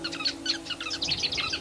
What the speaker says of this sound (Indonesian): Salah satunya yakni burung penenun atau burung social weaver.